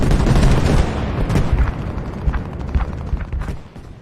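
Loud, close gunfire crackles in rapid bursts that fade toward the end, aimed at a German soldier in the World War II shooter video game PostScriptum, set in Sainte-Mère-Église.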